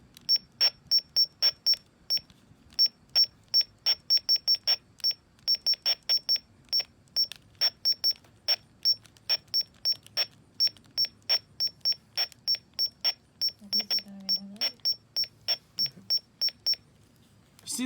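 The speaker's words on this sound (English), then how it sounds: "So, let's start out with the button beeps." Rapid series of short, very high-pitched electronic button beeps from an Oregon Scientific WR102 weather radio, dozens in uneven bursts, sharp and close, with a faint low hum beneath.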